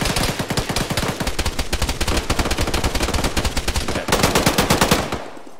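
Rapid automatic gunfire from a military shooter game (ArmA, ShackTac) hammers out in a long, steady stream of close, loud shots, with a brief pause near the end before a final burst cuts off.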